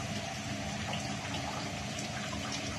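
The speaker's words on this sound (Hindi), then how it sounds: "पानी बॉयल हो रहा है, दिख रहा है आपको" Water at a rolling boil in a cooking pot, bubbling and churning steadily as a continuous wash of sound, fairly close and alone.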